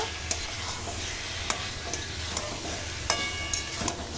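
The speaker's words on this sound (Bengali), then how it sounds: "কাঁচা মাংস দিয়ে খুব ভালো করে মশলা দিয়ে কষিয়ে নেব।" Raw chicken frying with spices in a pan for chicken kosha, a continuous close sizzle broken by sharp scraping stirs and clacks of a spoon against the pan, with no talking.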